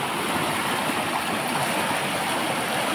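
Small river flowing, a close, steady rushing and babbling of water, even and unbroken throughout, with no speech.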